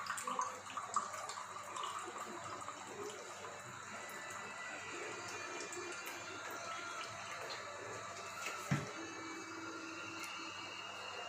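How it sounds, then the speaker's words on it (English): Cold water running and splashing into a container in a home kitchen while cooking, a continuous faint gush with a brief clatter near the end. "First we'll put water in it, cold water."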